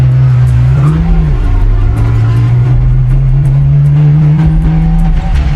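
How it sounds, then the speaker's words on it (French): A small homemade car engine runs steadily and loud, its low hum rising briefly near the start before settling into an even drone. "Écoutez le son du moteur"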